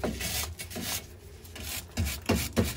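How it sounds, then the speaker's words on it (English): Wire brush scrubbing a new lower ball joint on a Ford Transit, a close, gritty rasping in uneven bursts of strokes with brief pauses between them. "I'm just going to give it a quick clean up with a wire brush."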